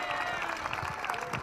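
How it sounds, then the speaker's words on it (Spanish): Audience at a comedy show at Casa Viejas applauding, a steady dense wash of clapping that fills the moment and sounds close and sustained. "un aplauso para todos ustedes."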